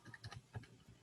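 Several quick plastic key presses tap numbers into a calculator, faint and close, in an irregular burst of about five clicks.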